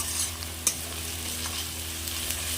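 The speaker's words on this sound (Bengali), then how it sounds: "পেঁয়াজ রসুন আদা আমি আরও একটু ভালোভাবে ভেজে নেব।" Onion, garlic and ginger paste fry in a pan with a constant soft sizzle and one brief utensil clink, with no voices.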